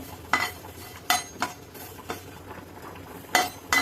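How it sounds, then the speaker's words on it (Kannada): A utensil scrapes and clinks against a pan while garam masala spices dry-roast, with several sharp metallic stirring strokes at an uneven rhythm, close and clear without talk. "ಇದನ್ನ ಚೆನ್ನಾಗಿ ಹುರ್ಕೋಬೇಕಿದ್ದು, ಗಮ್ಮಂತ ವಾಸನೆ ಬರೋವರೆಗೂ ಹುರ್ಕೋಬೇಕಿದ್ದು"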